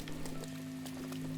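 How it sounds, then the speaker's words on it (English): Steady rainfall pattering on surfaces in the video game The Legend of Zelda: Breath of the Wild, a continuous soft hiss of drops with a constant low hum running underneath. "Rain just ruins the game."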